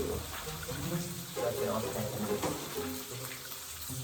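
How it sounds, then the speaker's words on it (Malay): Tap water runs steadily into a kitchen sink while hands are washed, a continuous splashing hiss that lasts throughout, with a cooking setting around it and some background murmur. "Ada cuci tangan."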